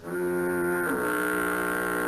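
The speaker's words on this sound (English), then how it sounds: "Foghorn? Steam horn? Foghorn." A foghorn sound effect: a loud, sustained harmonic horn blast lasting about two seconds, rich and steady, with a slight pitch shift partway through, heard alone.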